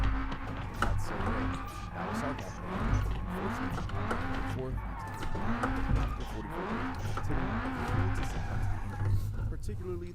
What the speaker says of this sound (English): first time I see a car on beamng that kinda drifts